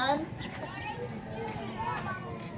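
Children playing and calling out by the sea at high tide near a house, a steady lively chatter of young voices with no adult speech.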